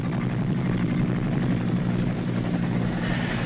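A military helicopter ferrying troops in wartime makes a continuous, heavy rotor and engine drone that holds steady and loud throughout, with no speech.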